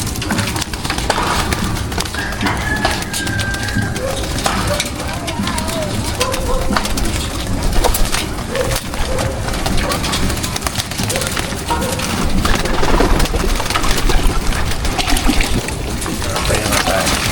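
Pigeons coo and flutter nearby in a busy, continuous bustle, with scattered clicks and shuffling throughout.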